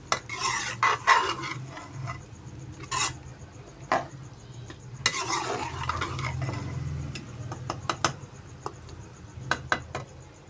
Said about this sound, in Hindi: अब इसको हल्की आंच पे हम 1-2 मिनट तक मिक्स करेंगे